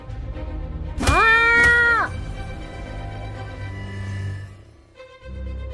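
A single loud, drawn-out cat meow rises and falls for about a second, close up, followed by quieter background noise.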